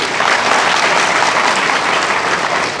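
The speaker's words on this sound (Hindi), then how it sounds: "ताली बजाइए माननीय जज साहब के लिए" Dense, loud audience applause in a hall during a talk on law and national security, steady unbroken clapping from many hands that fills the whole stretch.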